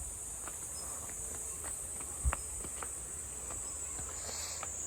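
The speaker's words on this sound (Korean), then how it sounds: "이제 막 이거 매미 소리지? 매미가 막 이제 울기 시작하네." Cicadas singing in a valley near mountains, a steady high buzzing drone running throughout, with faint scattered ticks and one soft thump underneath.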